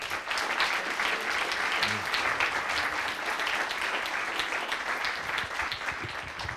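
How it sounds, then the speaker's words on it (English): An audience at an entrepreneurship evening at a university gives a sustained round of applause, with dense, steady clapping that fills the whole stretch at an even, fairly loud level. "let's give a big round of applause for the tweeting, for all the work they have done"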